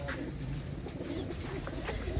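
Faint pigeon coos sound from a pair of pigeons just released, in a short, quiet stretch with a soft hiss of background noise and no talking.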